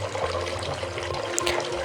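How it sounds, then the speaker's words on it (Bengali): Water gushing from a hand pump in a Meena cartoon game, a continuous loud splashing pour with no pauses across the short stretch. "তো চলো, কল চেপে জল ভরি আমরা এখন"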